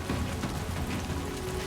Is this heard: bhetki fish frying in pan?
no